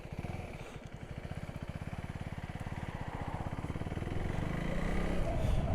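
A 2024 Husqvarna Svartpilen 401, a small A2-compliant motorcycle, pulses steadily and close up while ridden on the road, its engine note rising and growing louder toward the end.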